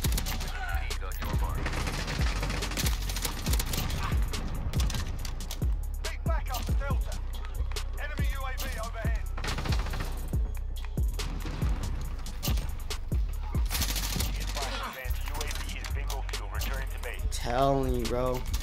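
Dense, sustained M4A1 rifle fire in the shooter game Modern Warfare, with rapid bursts running through the whole stretch alongside game effects, and a voice talking over the shots.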